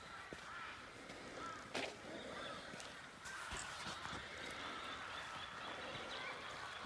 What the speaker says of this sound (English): You can hear those birds, cockatoos and galahs.